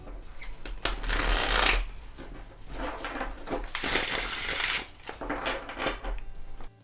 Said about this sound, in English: for the riffle shufflers amongst us, this is a very satisfying, lovely shuffle